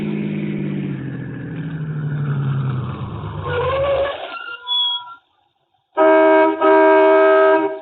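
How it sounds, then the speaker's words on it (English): Old-time radio drama effect of a car slowing and pulling into a gas station: a steady engine hum fades and winds down, a brief pause follows, then a bright ringing bell-like tone sounds loudly. "Stopped at the next gas station."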